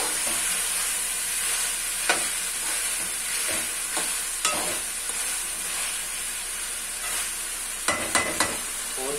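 Cauliflower stalks fry in masala in a hot pan, giving a constant loud sizzle and hiss, punctuated by occasional clinks and scrapes of a spoon stirring the pot, with no one talking.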